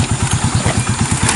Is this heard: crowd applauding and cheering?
no